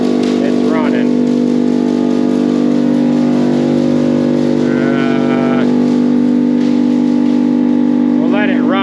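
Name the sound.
silo unloader blower running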